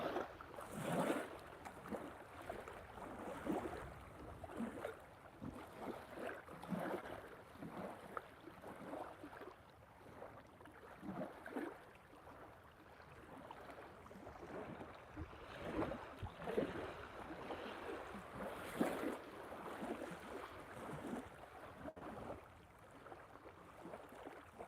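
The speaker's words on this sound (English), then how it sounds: "Really wish the wind would calm down." Steady wind gusts buffet the microphone on a lakeshore during a fishing outing. The blustery rumble is continuous and fairly loud, rising and falling over about twenty-five seconds, with no speech.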